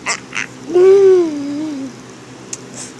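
A pet bird quacks like a duck: a couple of short calls, then a loud drawn-out quack, fairly close and clear, with a faint squeak near the end.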